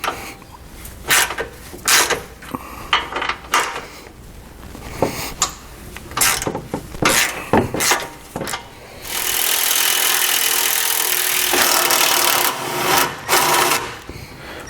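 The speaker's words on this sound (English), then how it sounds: "We're going to take a 12mm socket, and there's 2 bolts right here. We need to remove these 2." A 12mm socket ratchets bolts loose on a Honda Pioneer 1000-5 side-by-side, with rapid clicking ratchet bursts in short spurts, followed by a stretch of steady ratcheting and metallic handling, close and loud.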